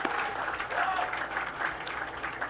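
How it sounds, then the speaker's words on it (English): Crowd applause during a State of the City address in Miami Gardens, a full, even burst of clapping from a large audience with some voices mixed in. "You all give a round of applause to the only historically black college in Dade County."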